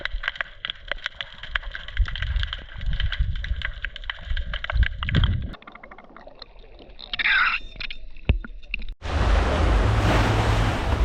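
Sea waves breaking at the shore in Portland, Jamaica, with steady surf washing in and rushing low, loud and close, occasional wind buffeting, and a sudden louder stretch of roaring water near the end.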